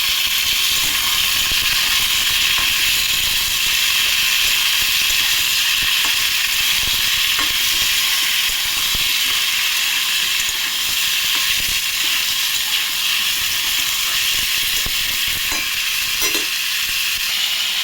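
Strips of ridge gourd and snake gourd fry in a pan for a mixed vegetable dish, giving a steady, close, unbroken sizzle and hiss with faint stirring scrapes throughout, and no voices.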